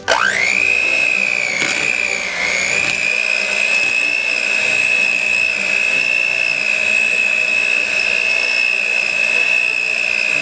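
Electric mixer creaming cream cheese with sugar and cornstarch for a New York-style cheesecake, a loud steady motor whine that dips briefly in pitch as the beaters load up, then holds constant throughout.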